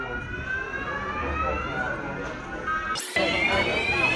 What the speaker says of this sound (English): What happened? Alarm.